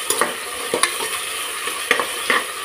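Raw green peas stirred and fried in a pan, a spoon scraping and tossing them in several quick, close strokes over a soft sizzle, with no voices.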